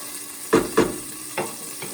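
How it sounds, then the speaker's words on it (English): Garlic cooks in a pan for tomato sauce, giving a soft, steady sizzle under a few short scraping stirs, close and fairly quiet. "So we'll get that garlic cooking just a little bit."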